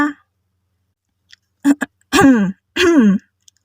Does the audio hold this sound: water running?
no